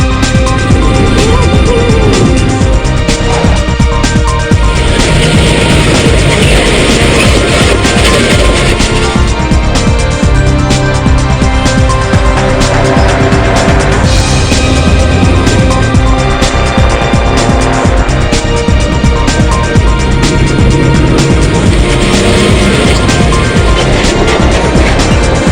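X-Raid Mini 2013 rally car driven at full throttle through vineyards, a loud, continuous engine roar rising and falling with shifts and throttle changes for the whole stretch.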